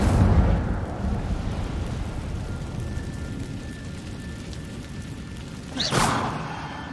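A fire spell cast in Hogwarts Legacy bursts out as a single sharp, loud whoosh near the end, over a low rumbling background.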